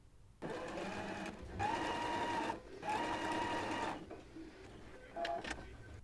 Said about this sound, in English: So let's go ahead and pin and sew those together now.